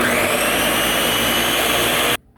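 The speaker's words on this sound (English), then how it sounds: "take the greens out, put them in the blender." A blender whirs at full power liquefying boiled foraged greens for saag, a loud, dense, steady roar that runs unbroken for about two seconds and then cuts off abruptly, leaving faint room noise.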